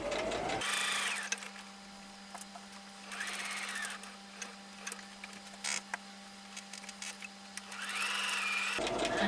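A sewing machine stitches binding with a whirring, creaking hum, running in bursts with quieter pauses between them and steady mechanical ticks throughout.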